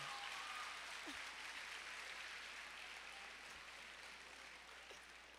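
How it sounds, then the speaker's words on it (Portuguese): A church congregation applauds a child during a sermon, giving a steady wash of fairly faint clapping that fades slowly. "Dá uma salva de palmas para essa criança,"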